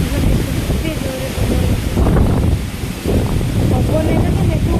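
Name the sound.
strong wind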